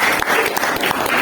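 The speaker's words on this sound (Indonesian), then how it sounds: "Kita kasih aplaus untuk kelompok." A classroom audience claps for a student group after its presentation, a dense, steady burst of many hands applauding close by for just over a second.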